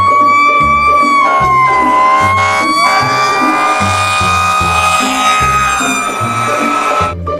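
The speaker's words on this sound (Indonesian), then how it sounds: "Yang ini ada mobil pemadam kebakaran." A toy fire truck plays a continuous electronic siren with a wailing, gliding tone over a steady rhythmic melody, loud and alone throughout.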